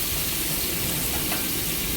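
Sliced ridge gourd and potatoes fry in a pan with a loud, steady sizzle that holds even and unbroken throughout.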